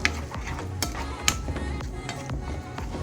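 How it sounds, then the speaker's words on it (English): Fresh vegetables being stirred in a soup pot, with scraping spoon strokes and a few sharp taps against the pot over a soft sizzle of sweating vegetables, close and steady, no talking. "Get all them in there and just stir it together."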